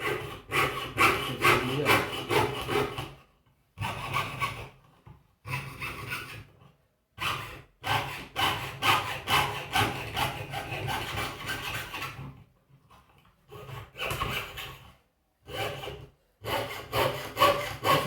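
A handsaw cuts wood in a craft class, with rhythmic rasping strokes in close, loud bursts separated by short pauses.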